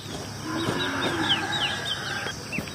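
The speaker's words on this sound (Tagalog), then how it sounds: "Yan pala yung ating mga palaking sisiyo mga kabukid, oh." Growing native chicks on a farm cluck and peep steadily at close range, with short overlapping calls in a continuous chatter and no one speaking.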